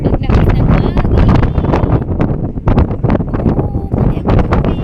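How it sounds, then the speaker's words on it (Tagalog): Strong wind gusting loudly and steadily across an open area near water, a broad rushing roar buffeting the microphone throughout with brief dips between gusts. "Lakas ng hangin."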